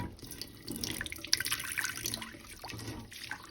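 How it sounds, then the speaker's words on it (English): Water splashes and trickles into a cooking pot for steaming biryani rice at close range, a soft, uneven pour with small drips and no talking. "You put water into the pot"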